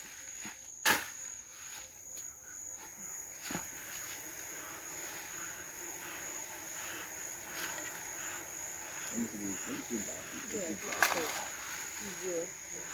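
Honeybees buzzing at an opened beehive during an inspection in Nigeria, a soft steady hum in the background while people talk nearby, with a few sharp knocks.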